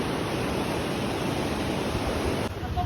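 Clear mountain stream water flows beneath a simple bridge in Uttarakhand, a steady, even rushing wash that holds unbroken throughout, close by and moderately loud with no talk over it.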